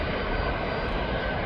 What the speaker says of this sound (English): Nice landing from that Jet2 Holidays aircraft.